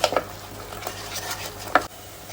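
A spoon stirs mutton curry with spices in a pot, a few short scraping clinks near the start and one more toward the end, close and moderately loud over a soft background hiss.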